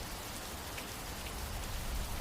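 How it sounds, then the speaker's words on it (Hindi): Heavy rain pours down in a dense, steady hiss with no breaks, close and fairly loud. "एक दिन बहुत तेज बारिश हुई"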